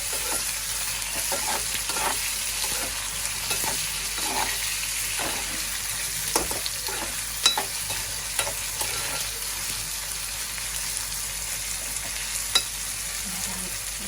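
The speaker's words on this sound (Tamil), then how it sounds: "இந்தால பார்த்தீங்கன்னா வெங்காயம் நல்லா வதங்கி வந்து இருக்குது" Onions sautéing in a pan: a continuous sizzle broken by repeated scraping stirs at an uneven rhythm, close and moderately loud, with no talking.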